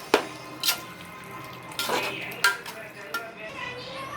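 A utensil scrapes and clinks against a pot of biryani mixture with added water in a few irregular strokes, close by, with a faint watery wet quality and no talking.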